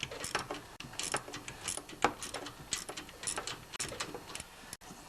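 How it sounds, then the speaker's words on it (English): A 3/8 socket wrench loosens a bolt on a snowblower's electric starter, rapid ratcheting clicks and ticks in quick uneven bursts, close and fairly quiet. "So I'm going to use a 3/8 socket with the wrench, because then I know it's not going to strip the bolt."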